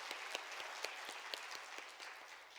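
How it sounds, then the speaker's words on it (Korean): Congregation applause in a church during a Friday night healing service, a faint, distant patter of rhythmic clapping repeating steadily over a quiet room. "하나님께 영광의 박수를 올려드리겠습니다."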